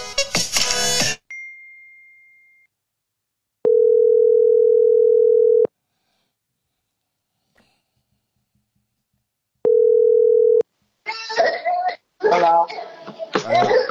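A steady telephone dial tone hums in two long, even bursts separated by silence while a call is being placed, with voices and brief noises before and after.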